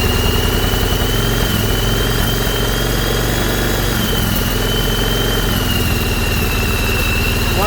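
A Yamaha Virago 1100 motorcycle, still cold after a revival, runs with a loud, steady, close idle throughout, its rumbling engine note alone without any speech.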